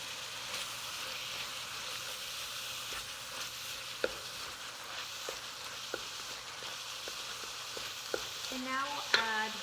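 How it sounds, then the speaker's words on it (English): Ground chicken frying in a pan for Thai basil chicken, a soft steady sizzle with occasional light scraping taps as it is stirred, fairly quiet and close, no talking. "We're going to stir this in. Stir it for another minute."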